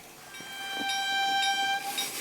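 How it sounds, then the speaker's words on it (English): Recorded train sound effect played for a Lego train layout run by Raspberry Pi computers: a sustained, multi-tone train horn blast lasting about two seconds, fairly loud and alone with no talk. "And we also have some train sounds"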